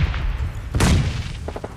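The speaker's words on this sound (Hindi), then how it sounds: "ग्रेनेड तो अपना काम करता है" A grenade explodes in PUBG Mobile Lite during a squad battle, a dull thumping boom rising out of steady low game rumble, followed by a few faint sharp pops.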